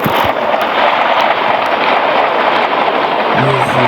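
Meteorites strike Earth in the video game Solar Smash, producing a continuous, dense barrage of crackling, booming impacts like rapid fireworks, loud and steady throughout.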